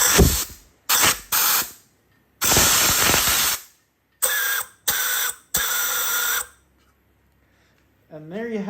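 Fluid squirted through a piston squirter on a disassembled 1986 Porsche 930 Turbo engine: several sharp, loud hissing spray bursts of varying length, with short pauses between, close up.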